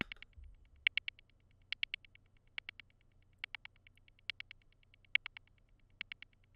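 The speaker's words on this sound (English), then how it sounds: "I'm going to add this little perk hi-hat pattern that sounds like this." A bouncy hi-hat pattern in an FL Studio beat: crisp, bright clustered ticks in a syncopated repeating rhythm, each burst a quick roll of several hits, playing alone over a faint low hum.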